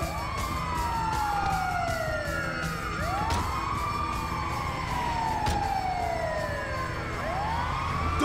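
A loud ambulance siren in Grand Theft Auto V wails continuously in repeating sweeping cycles, sounding close and unbroken, with engine rumble beneath.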